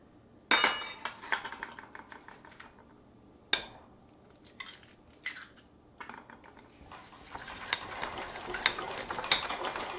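Molasses and an egg being mixed in a bowl for grandma's ginger cookies, a spoon clinking and scraping against the bowl in irregular close taps and stirring strokes, with no talking.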